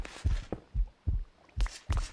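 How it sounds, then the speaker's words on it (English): A video game heartbeat effect thumps close and loud in steady lub-dub pairs, about four beats in quick succession with nothing else heard. "And there goes my heartbeat."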